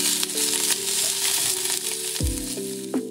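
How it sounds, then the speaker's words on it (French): Rice and cucumber fry in a pan with a steady, loud sizzle throughout. A few clanks and scrapes from stirring break in near the end. Nobody speaks. "J'ajoute ensuite du concombre et je continue à faire cuire le reste."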